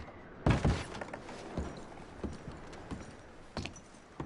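Horses in the video game Red Dead Redemption 2 give a few irregular hoof clops and thuds, the loudest near the start, over a quiet background.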